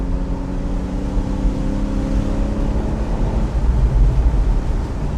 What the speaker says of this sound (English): You can probably hear just a little bit of the backfiring.